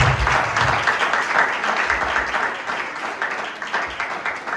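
A church congregation applauds during a bilingual French-Dutch Sunday sermon, with dense, steady clapping that fills the room evenly throughout and tapers only slightly toward the end.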